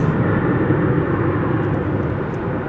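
A Qantas airliner on Flight 8 to Sydney pushes back from its stand at Terminal D, a loud, steady low jet engine rumble and whine with no break.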